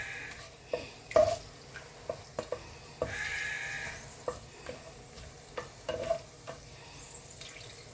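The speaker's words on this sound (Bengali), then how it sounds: "কয়েক সেকেন্ড একটু নাড়াচাড়া করবো, এতে যখন একটা সুন্দর ঘ্রাণ বেরোবে" Whole spices, including small cardamom pods, frying in hot oil in a pan while being stirred: a low sizzle broken by sharp, irregular scraping taps of a spatula.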